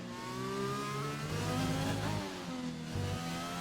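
A racing car engine in a video game revs at full throttle, a steady mid-pitched drone that rises and drops with gear changes, faint and at a distance, with no talk over it.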